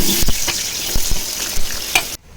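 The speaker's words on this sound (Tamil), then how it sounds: "ஆயில் ஊற்றிடலாம். பட்டை, கிராம்பு, வெங்காயம் சேர்த்திடலாம்" Onion, cinnamon and cloves frying in hot oil, with a steady bright sizzle throughout and repeated scraping knocks of a spatula stirring the pan, close and loud until it cuts off abruptly.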